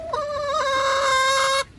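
A hen gives a drawn-out, rising cluck that swells into a loud, harmonic squawk lasting over a second before cutting off, close and clear with no talking.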